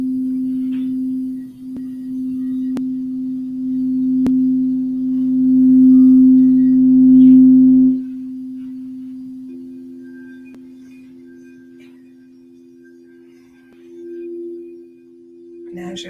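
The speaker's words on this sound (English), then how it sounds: "tune into the sounds of the bowls." Singing bowls ring with a long, steady, pure hum that swells and fades, a second bowl joining with a higher tone later, close and clear with no one talking.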